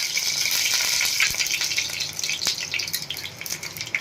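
Bright, crackling sizzle of dried red chillies and curry leaves dropped into hot oil, continuous and close, with a few sharp pops and clinks.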